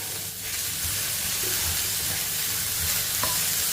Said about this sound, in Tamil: வதக்கிடுவோம். ஒரு மீடியமான குடமிளகாப்பா, இதையும் இதில் போட்டுக்குருவோம்.